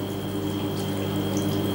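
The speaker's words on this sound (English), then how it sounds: "we have to add some hot water for the cook." Hot water being poured into a cooking pot of stuffed grape leaves with lemon slices, a steady close rushing splash with a constant hum underneath and no talking.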